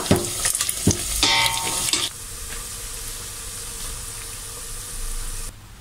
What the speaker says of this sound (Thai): นี่ขนาดทอดในหม้อสูงๆนะ ทอดในกระทะแบบ กระเด็นใส่แบบ อุ้ยกลัว